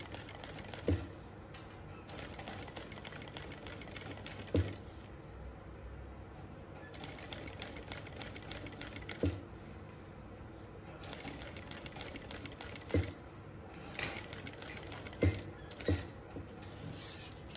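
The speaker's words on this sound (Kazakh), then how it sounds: "Енді осы қалыпта қалған бөліктерін тігіп шығамыз" A sewing machine stitches a bag in bursts of fast, even mechanical chatter, stopping and starting repeatedly, with sharp clicks marking each pause; close and moderately quiet, no talking.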